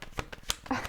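A deck of playing cards being shuffled, a quick burst of riffling flutters under a second, close and fairly quiet.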